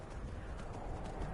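Hooves of a demonic black horse with red eyes in the game Skyrim clop in a quick, even rhythm over a dense wash of ambient noise, brief and moderately loud.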